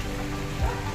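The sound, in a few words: heavy rain falling outside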